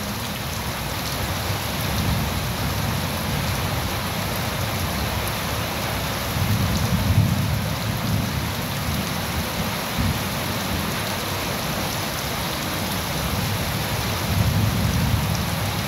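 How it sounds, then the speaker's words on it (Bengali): Heavy downpour in the Sundarbans heard from under a shed, a dense steady hiss of rain with deep rolling thunder swelling at intervals, no voices. "এখানে মুষলধারে বৃষ্টি হচ্ছে,"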